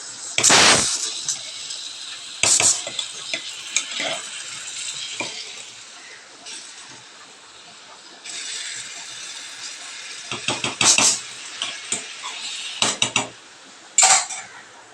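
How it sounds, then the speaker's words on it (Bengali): Rice boiling in a pot is stirred with a metal spoon, giving loud scattered clanks and scrapes against the pot over a soft background hiss. "ভাতটা ফুটেও এসছে, তো ভাতটাকে একটুখানি নাড়িয়ে দেব জাস্ট"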